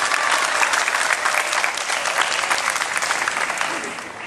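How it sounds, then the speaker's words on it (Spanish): Crowd applause at a municipal political party event in Acapulco, a loud, dense, sustained burst of many hands clapping that eases off slightly toward the end, with some faint voices underneath. "Un fuerte aplauso para Luis Miguel Terrazas, por favor."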